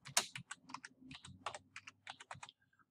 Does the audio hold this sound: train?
no